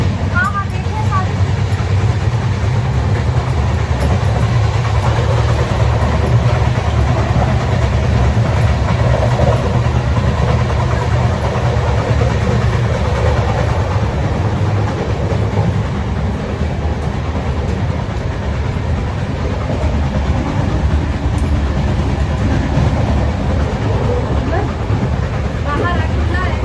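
Interior of a moving passenger train on a pilgrimage journey to Patna Sahib: a loud, steady rumble and rattle of the carriage with faint rhythmic wheel clatter, and people talking over it.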